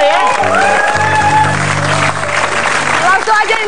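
Studio audience applauding on an Indonesian TV comedy show, a dense, steady wash of clapping that carries through the whole stretch, with a host's voice and music tones riding over it.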